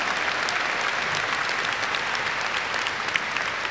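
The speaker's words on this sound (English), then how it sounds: "how about some applause for our parents, siblings, and extended family who have dealt with us for nearly 2 decades" A graduation audience fills the hall with steady, dense applause, many hands clapping at an even level throughout with no pauses.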